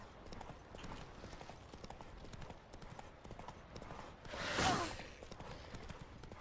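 Rapid, rhythmic clip-clop of horse hooves galloping in The Witcher 3: Wild Hunt, steady and fairly faint, with a brief louder whoosh partway through.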